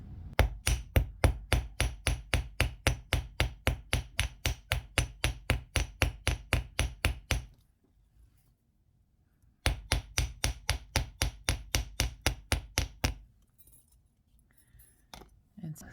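A hammer strikes copper wire ends on a hard surface to flatten them for a forged wire heart pendant, rapid even metallic taps in two long runs separated by a pause, close and crisp.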